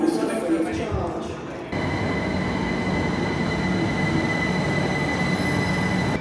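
A Heathrow inter-terminal transfer train runs toward Terminal 5 with a loud, steady rumble and high wheel squeal. A voice is heard briefly at the start before the train noise takes over.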